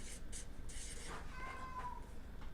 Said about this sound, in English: Now the cat wants to go out.